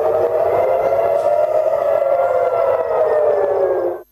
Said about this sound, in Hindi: तेल अवीव समेत पूरे इसराइल में एयर रेड सायरन बज रहे हैं।